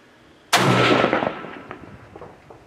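A single loud Mosin Nagant rifle shot fired at a target outdoors, a sharp crack at close range followed by a decaying echo rolling away over about two seconds.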